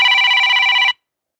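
A phone rings mid-livestream, one loud, close electronic ring burst lasting under a second before cutting off abruptly into silence.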